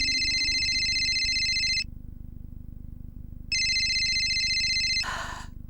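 A telephone rings in two loud electronic bursts separated by a short silence, followed by a brief rustle.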